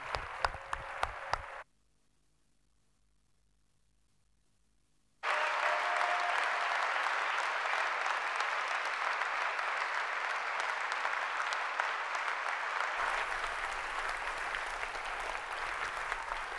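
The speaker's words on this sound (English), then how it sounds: "So just one more round of applause for all our graduates today and all those who supported them." A hall audience at a university winter graduation ceremony claps for the graduates: a few sharp claps, a short silence, then sustained, even applause that continues steadily to the end.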